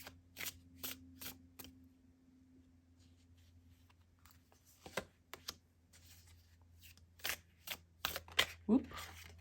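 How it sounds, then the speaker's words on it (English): Tarot cards riffle and snap in a series of quick, crisp bursts, close up, with soft handling noises between shuffles and a low hum underneath. "let's wake it up and give it some shuffling"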